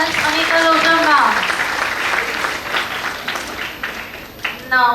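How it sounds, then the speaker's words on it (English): An audience at a conference event applauds with dense, steady clapping that swells and then slowly thins, with a voice heard briefly at the start and again at the end. "Once again, big round of applause for Ms. Anika Loja ma'am."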